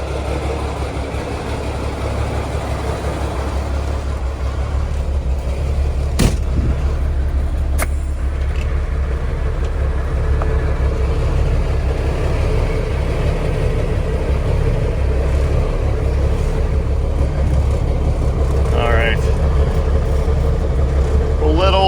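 A Smokey and the Bandit tribute truck engine idles and warms up on a snowy day, a steady low rumble running throughout with a couple of sharp clicks and some faint background voices.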